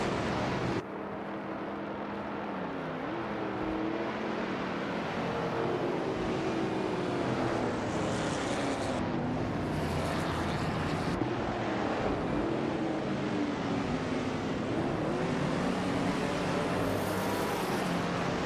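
Continuous engine roar of racing cars during a race in a video game, loud and steady throughout with shifting pitch as cars pass, no talk.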